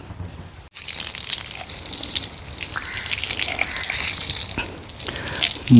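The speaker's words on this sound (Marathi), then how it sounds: "चला पाणी भरून घेऊया जरा याला" Water gushes steadily from a pipe or tap into a freshly soil-filled pit, a loud continuous splashing pour heard close by after a brief quiet start, with no talking.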